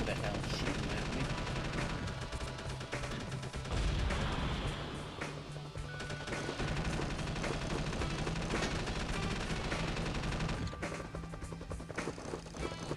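Gunfire crackles almost continuously through a busy Army Men Air Tactics battle, dense bursts of shots layered over engine drone and game noise, with a voice talking over parts of it.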